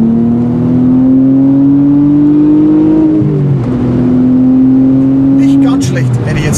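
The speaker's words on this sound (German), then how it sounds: "die haben uns jetzt hier so eine Mörder-Aggressor-Auspuffanlage gebaut" Audi RS4 B5 with a custom aftermarket exhaust revving loudly up close, holding a steady high-rpm drone that dips briefly before climbing and holding again, then dropping once more near the end.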